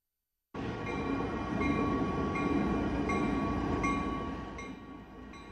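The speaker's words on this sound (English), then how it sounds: "we're going to view a video clip on freight trains" A freight train heard from a played-back clip, a sustained loud rumble and rattle of rolling wagons with faint tonal whine, starting abruptly and continuing steadily without talk.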